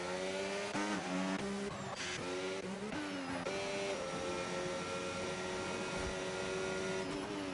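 A Formula 1 race car in an F1 video game working through the Baku street circuit: a constant high engine whine that steps up and down through gear changes, loud and steady with no talk.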